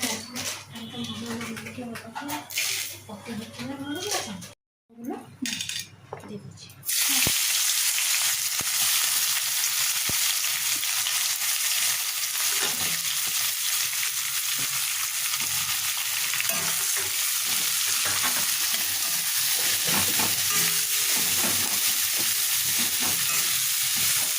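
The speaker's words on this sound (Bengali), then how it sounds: "চিনিটা তেল দিয়ে অল্প করে" Sugar cooking in hot oil while being stirred, a loud continuous sizzle that takes over after a stretch of talking and clattering, with occasional scraping of the spoon.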